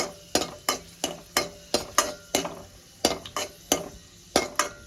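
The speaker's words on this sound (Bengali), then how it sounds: "ঘি আমার গরম হয়ে গেছে, আমি ফোড়নে দিয়ে দেব শুকনো লঙ্কা।" Dried red chillies fry in hot ghee for a curry tempering, with a steady sizzle under repeated sharp scrapes of a spoon against the pan in an even rhythm, close and fairly loud, no talking.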